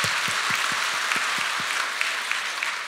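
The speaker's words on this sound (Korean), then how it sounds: "우리 예수님께 감사 박수 올려드리겠습니다." A church congregation applauds at a Sunday worship service, giving sustained dense clapping with a steady rhythmic low thump running through it, moderately close and with no talking over it.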